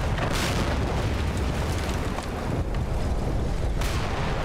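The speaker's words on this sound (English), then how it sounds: "he's firing his cannon about 50 metres in front of you" Cannon fire and explosions in the war game Combat Mission: Battle for Normandy, heavy booming blasts with a sharp burst near the start and two more later, over a continuous rumbling battle background.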